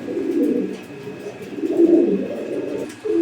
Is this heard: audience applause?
no